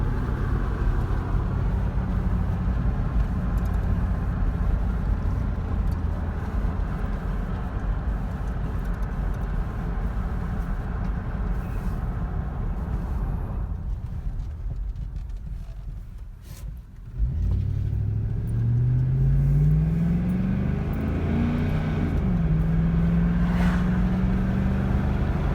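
A Chevrolet Tahoe with 273,000 miles on 285/60 18-inch tires driving on the road, with a steady loud engine and road rumble, a brief dip, then rising engine revs as it accelerates.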